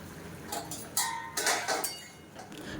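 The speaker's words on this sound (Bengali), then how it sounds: "এবারে 2 মিনিট পর আমি ঢাকনাটা খুলে দেখে নিচ্ছি সবজিগুলো কতটা সেদ্ধ" A lid is lifted off a pot of boiling vegetables, potato and eggplant, giving a few close metallic clinks and clatters with no one speaking.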